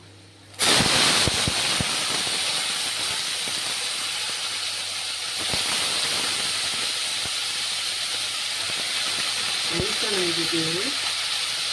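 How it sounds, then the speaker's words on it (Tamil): Potatoes sautéed with asafoetida powder in a pan for a Chettinad potato masala: a loud, steady sizzling hiss starts abruptly and carries on unbroken, with faint clicks beneath. "பெருங்காயத்தூள் எல்லாம் ஒன்று போட்டு வதக்கிட்டு நாங்கள் உருளைக்கிழங்கு"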